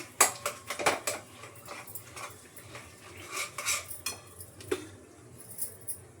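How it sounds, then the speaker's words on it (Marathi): Cashew and almond ladoo mixture being mixed in a pan off the heat, a spoon repeatedly scraping and clinking against the metal in irregular close strokes, with no talk. "गॅस बंद करून मी हे टाकते आणि चांगलं एकत्र करून घेते."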